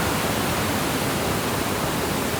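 Curug Lawe, a waterfall at the foot of Mount Ungaran in Java, roars in a steady, dense hiss that fills the scene evenly, with no talk over it.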